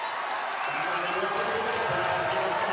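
Crowd noise swells steadily at a Providence–Georgetown college basketball game, a broad wash of cheering and scattered clapping from the stands, filling the arena at moderate distance.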